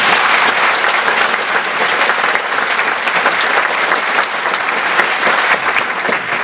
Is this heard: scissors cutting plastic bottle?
no